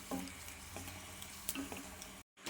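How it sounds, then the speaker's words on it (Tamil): Asafoetida fries in a little sesame oil, a faint, steady sizzle with a few light utensil clicks, briefly cut to silence near the end before resuming. "கொஞ்சமாக நல்லெண்ணெய் ஊற்றிட்டு இந்த பெருங்காயத்தை வறுத்துக்கலாம்."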